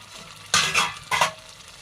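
A paste of cashew, melon seed and poppy seed sautés in a pan. Two short, loud scraping strokes of a spoon stand out over a quiet frying hiss, and no one speaks.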